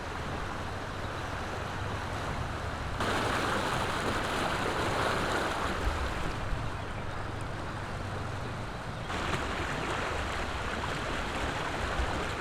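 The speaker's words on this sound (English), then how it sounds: "This is the river that flooded." A flooded river rushes in a loud, continuous roar, a broad steady wash of water with no pauses and no voices.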